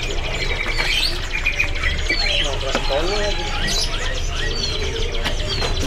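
Bondol munia birds at a busy bird market chirp in quick, high tweets and trills over a steady crowd murmur and voices talking nearby.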